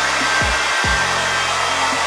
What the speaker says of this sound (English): I am gonna use a blow dryer